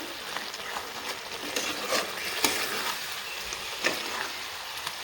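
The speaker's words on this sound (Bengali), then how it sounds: "ফুটে গেছে তো দেখো তেল ছিটছে এখন দিয়ে দিব ভেজে রাখা কলাগুলো" Fried green banana is stirred through spluttering spiced oil in a pan. A soft continuous sizzle runs under intermittent spatula scrapes and small pops, quiet and close, with no voices.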